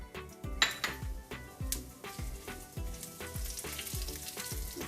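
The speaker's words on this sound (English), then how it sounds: "Fry that for 2 seconds." Red pepper and cumin seeds sputter in hot oil with a crackling sizzle, while a utensil clinks against the pan in a quick rhythmic run of knocks.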